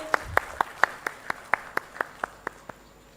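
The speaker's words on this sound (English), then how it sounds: "Let's have a big round of applause, ladies and gentlemen." A single person claps about a dozen times at an even pace at a live textile expo event, sharp distinct claps rather than a crowd's ovation.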